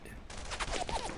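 Suppressive gunfire in the World War II shooter Brothers in Arms: Earned in Blood, a dense burst of rapid shots that sits close and loud, with a shouting voice mixed in over the firing.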